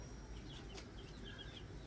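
Thirteen young Americana chicks clucking and peeping softly in a box, a brief faint burst of small chirps with no talk.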